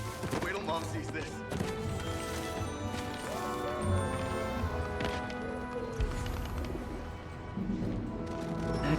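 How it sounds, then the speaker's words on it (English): Pigeons cooing in a city park in the video game Spider-Man Remastered, soft repeated coos heard steadily over a busy layer of ambient game sound with faint clopping and chatter. "I'd better scan some pigeons to make sure."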